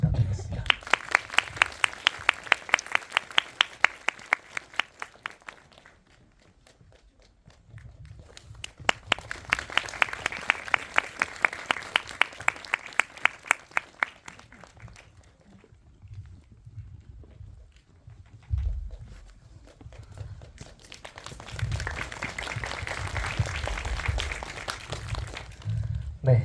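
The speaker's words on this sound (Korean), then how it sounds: "큰 박수 한번 부탁드리겠습니다" Audience applause welcoming the director and cast onstage at a film festival GV screening event, coming in three separate bursts of dense clapping with quieter gaps between them, over low rumbling room noise.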